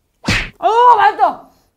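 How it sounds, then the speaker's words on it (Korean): A single sharp, close slap of a hand against one's own forehead while eating burgers, followed at once by a loud drawn-out vocal exclamation. "먹고 맛있으면 이마를 탁 쳐주세요"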